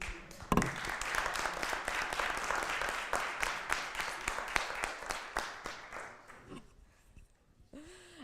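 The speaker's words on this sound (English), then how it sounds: "Also one big applause for Omed." Conference attendees applaud warmly, many hands clapping together in a sustained burst that thins out and fades near the end, with a brief voice at the close.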